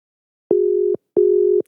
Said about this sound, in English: It's ringing. We're ringing.